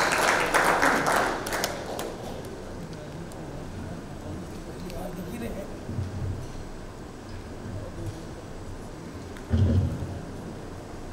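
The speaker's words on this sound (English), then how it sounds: "Please give a round of applause and welcome Rajiv Kumar on stage." Brief applause from an audience at a corporate cricket event, as a speaker is welcomed on stage, bursting loudly for a couple of seconds and then fading into scattered handling noise and faint background bustle.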